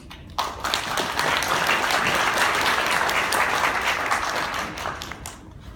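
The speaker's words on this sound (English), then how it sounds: "please give a warm applause to Mr. Maximiliano Villalba" A conference audience at the NTT ACF 2017 event applauds Maximiliano Villalba, vice president at Neutrona Networks, with dense, steady clapping that starts abruptly and tapers slightly at the end.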